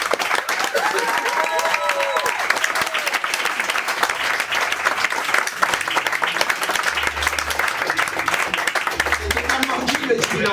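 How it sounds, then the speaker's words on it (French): Loud, sustained applause from a large comedy-show audience, dense clapping that fills the whole stretch without pause, with faint voices mixed in. "un tonnerre d'applaudissements pour Guy Lebas."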